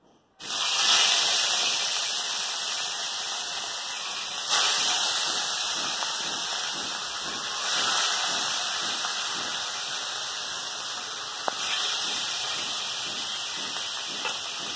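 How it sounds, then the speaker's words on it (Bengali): Fish rubbed with salt and turmeric fry in hot oil in a kadai, giving a continuous loud sizzling hiss close by that swells slightly in a few places and carries on without talk. "তেল গরম হয়ে গেছে, এবার নুন হলুদ মাখিয়ে রাখা মাছগুলো দিয়ে দেবো।"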